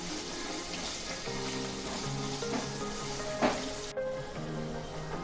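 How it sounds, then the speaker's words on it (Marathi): Finely chopped onion frying in a pan for veg Kolhapuri, a soft, steady sizzle heard close, with faint stirring scrapes and a brief clink near the end, no voices. "बारीक चिरून घेतलेला कांदा ॲड करूया आणि हा छान सोनेरी रंग येईपर्यंत परतून घेऊया"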